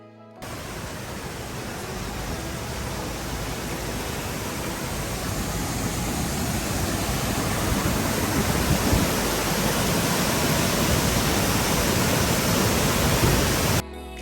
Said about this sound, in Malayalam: അടിപൊളി ഒരു വെള്ളച്ചാട്ടം